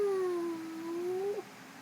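A person imitates a cat's meow vocally, one short drawn-out meow lasting over a second with a slight pitch dip and rise, fairly quiet and close, no talking.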